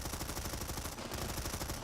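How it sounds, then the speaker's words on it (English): Submachine guns fire in Planetside infantry combat on a building's second floor: rapid, continuous bursts of shots crackle in a dense, steady rattle, loud and sustained with no pauses. "There's SMGs going to work on the second floor here."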